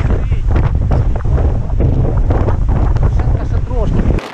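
Strong wind buffets the microphone on a Mt Oxford hike in New Zealand, a loud, steady low roar with gusty rustling that cuts off abruptly at the end.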